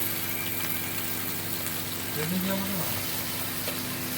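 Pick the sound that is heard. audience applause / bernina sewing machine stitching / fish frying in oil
fish frying in oil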